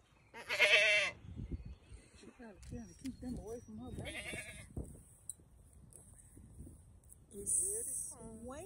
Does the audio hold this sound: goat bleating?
yes